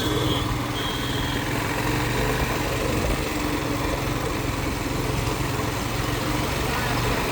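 Motorcycle engine running on the mountain road from Sonamarg toward Zojila Pass, a steady buzzing drone with a rough low rumble and some wind noise, held at constant pitch throughout.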